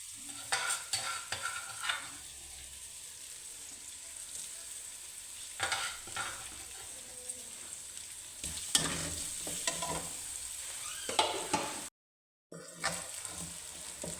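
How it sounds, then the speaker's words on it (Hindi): Onion masala with green chilies and ground garlic sizzles and crackles steadily in a hot pan, with occasional scraping and stirring sounds, fairly quiet and close, with one brief dropout. "प्याज मसाला फ्राई हो रहा है"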